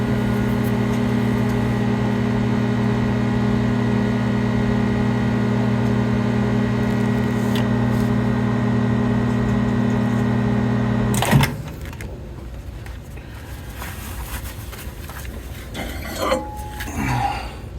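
A microwave oven hums steadily while reheating soft plastic fishing bait, a loud, even drone that cuts off abruptly with a clunk, followed by quieter handling clatter.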